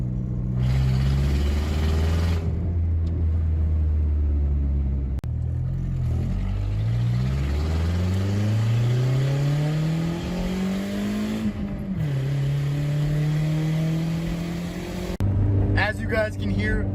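A boosted MK4 Jetta engine fitted with a new intercooler runs loud and raspy up close. It revs up and down through rising and falling sweeps, settles into a steady drone, and ends with a brief rattling burst.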